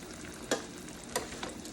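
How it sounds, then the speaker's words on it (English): Eggplant slices fry in a hot pan with a steady close sizzle, broken by two or three brief scraping stirs. "it took less than 40 minutes to fry all of these eggplants"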